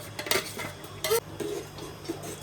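A spoon stirring blended tomato into a cooking pan, a few sharp metallic clinks and soft scraping strokes against the pan, close and fairly quiet.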